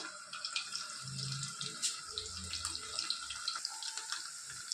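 Soaking water drained off dry fish in a kitchen, a steady, fairly faint running and splashing trickle with a few small clinks and drips, and no talking.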